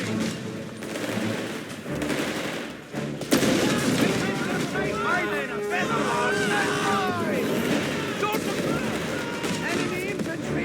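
Artillery battery firing in the video game Company of Heroes 3, set in North Africa at Gazala: booming gunfire with rattling bursts and overlapping explosions, loud and dense throughout, with game voice lines mixed in.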